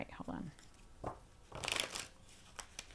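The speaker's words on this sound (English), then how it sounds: "Shuffle them two more times." Tarot cards being shuffled in short crisp riffling bursts, with quieter shuffling and card handling in between and no speech over them.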